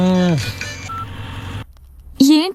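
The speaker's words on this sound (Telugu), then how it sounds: "ఎవరో ఫోన్ రా." A phone rings in a Telugu movie love scene, with electronic tones sounding briefly between and around voices that speak over the mid-section, ending in a rising tone.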